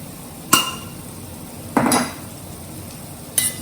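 An oven-friendly metal tray lined with aluminium foil being handled: three sharp, separate metallic knocks spaced a second or more apart over a quiet background.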